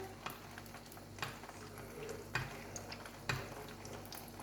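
Chicken spring rolls (nems) frying in a pan over high heat, a quiet steady sizzle with a few soft ticks and clinks at intervals, faint and close.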